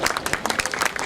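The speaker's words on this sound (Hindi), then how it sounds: "तालियां होनी चाहिए" Audience applause at a Women's Day felicitation ceremony at a restaurant, a brief burst of dense, steady clapping from a gathered crowd.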